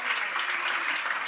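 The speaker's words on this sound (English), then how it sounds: "Round of applause" Audience applause after a team's software demo at a developer demo-jam event, a short burst of dense, steady clapping from a crowd, fairly distant and moderately quiet.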